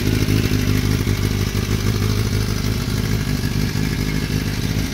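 Kawasaki ZX-10R sport motorcycle engine running close by, a loud rough continuous rumble with a clattering, throbbing texture and no talking.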